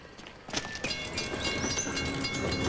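A train passing on railway tracks, a rising rush of wheel and rail noise with clanking and high metallic squeals, close and fairly loud, alone without voices.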